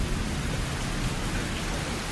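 Steady rain falls in an anime scene, a dense, even hiss of drops with a low rumbling undertone, continuous and unbroken throughout with no speech.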